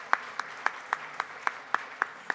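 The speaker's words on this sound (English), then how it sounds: "So a round of applause for just the ingenuity and the forward thinking." Audience at a Habitat for Humanity fundraiser claps in a steady rhythm, about nine distinct claps spaced evenly, moderately close and fairly soft, with no one speaking.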